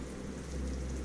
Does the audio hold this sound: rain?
yes